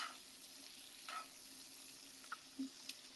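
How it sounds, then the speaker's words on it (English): Char siu pork sears on a grill with a faint, even sizzle and hiss, broken by a few small pops and crackles near the end. "So we'll give these a nice sear"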